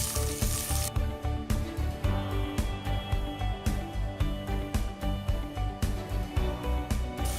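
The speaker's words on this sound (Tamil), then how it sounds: "வெங்காயம் பொன்னிறமாக வதங்கட்டும்." Sliced medium onions frying in a pan for tomato rice, a steady loud sizzle with rhythmic stirring strokes scraping through it at a regular pace, close and without talk.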